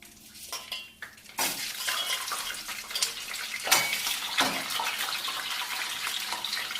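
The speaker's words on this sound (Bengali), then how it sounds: "একটু ডিমটা হালকা করে ভেজে নেই।" Egg sizzles lightly in a pan with cumin, bay leaf and dried chilli, a steady hiss with scattered clinks of utensils against the pan, close and fairly quiet, and no one speaks.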